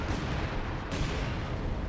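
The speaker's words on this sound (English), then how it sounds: "A light artillery barrage is going to probably decrew this thing." A light artillery barrage in Company of Heroes 2 keeps up a dense, continuous roar of shell blasts and rumbling impacts, loud and unbroken for a couple of seconds.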